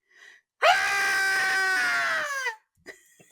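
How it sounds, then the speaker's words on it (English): A bookworm creature in a film lets out a long, loud, wavering scream lasting about two seconds, with a short faint sound before it and a brief one after. "I love the way that this bookworm screams when they come in."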